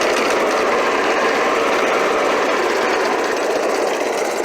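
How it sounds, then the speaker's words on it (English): A small lawn mower engine, carburetor exposed with air filter removed and previously prone to surging, runs steadily under load, producing a loud, close, continuous buzzing drone without noticeable speed swings. "If you put a load on the lawnmower, it's fine."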